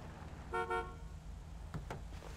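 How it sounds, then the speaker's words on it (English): A car horn sounds two short honks in quick succession, fairly quiet against a low rumble of vehicle and road noise, followed by a couple of faint knocks. "Just honk your horn a few times"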